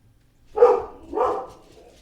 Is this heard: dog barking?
yes